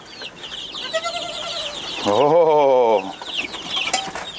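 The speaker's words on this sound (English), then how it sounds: "the chicks run crazy" Chicks and hens cluck and squawk close by in a frantic burst, a loud drawn-out call in the middle, while a person briefly exclaims.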